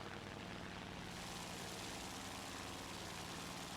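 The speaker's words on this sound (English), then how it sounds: "I could hear a plane" A nearby propeller plane's aircraft engine in War Thunder, a steady, loud broadband drone that holds without pause throughout, with no talking over it.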